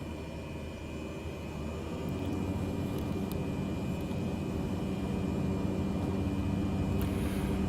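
An airliner in Microsoft Flight Simulator 2020 rolls down a long runway at Palm Springs for takeoff, its engine roar a steady, dense rumble that builds slightly louder partway through and continues without voices.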